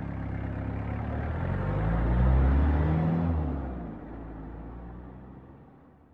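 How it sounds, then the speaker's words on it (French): A car engine starts and revs up loudly, then recedes as the car drives off, fading into the distance; a staged sound effect with no talk. "Nick démarre la voiture et part."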